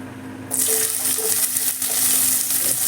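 Thinly sliced onions hit a little hot oil in a pan and burst into a loud, steady hiss and sizzle that carries on close up, with no talking.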